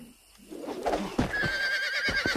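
A horse neighs in the video game Red Dead Redemption, a loud, close whinny that rises into a shrill, wavering call, with soft hoof and ambient game sounds behind it.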